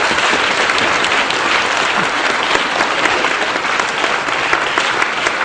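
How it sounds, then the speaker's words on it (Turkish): Loud, dense applause from an audience at a Turkish stage event, given to the Kafkas family; a thick, continuous wash of clapping holds at full strength throughout with no voices on top. "O zaman Kafkas ailesine gürültülü bir alkış."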